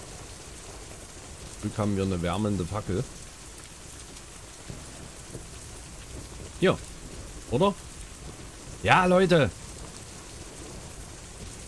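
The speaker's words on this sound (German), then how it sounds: "Bei Nacht im Gebirge und es regnet." Rain pours steadily at night in the mountains in the Out of Reach survival game, an even wash of hiss with low rumbles beneath, while someone speaks in several short bursts over it.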